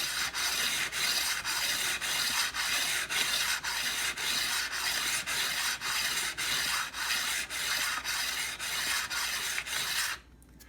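Blades from a Jet JPM-13CS planer/molder are sharpened with steady back-and-forth rasping strokes, about two per second, close and even, ending abruptly near the end.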